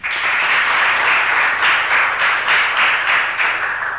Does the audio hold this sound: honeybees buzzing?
no